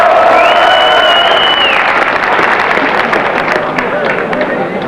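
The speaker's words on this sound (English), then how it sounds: "The crowd will be really pleased if Alan plays a good ball here." Crowd applause and cheering at a 1988 Waterloo bowls match, a steady dense wash of clapping and crowd noise filling the whole moment, with a commentator talking over it.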